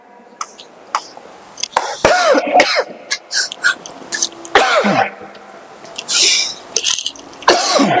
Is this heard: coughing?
yes